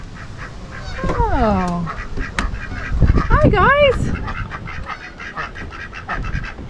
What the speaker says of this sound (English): One thing about being by the canal is that there's a lot of birds.